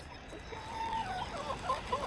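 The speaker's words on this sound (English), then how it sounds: "The room 29 chickens, the Magnificent Seven are right here" Several chickens clucking softly in a coop, faint and steady over a low background hum, with no voices.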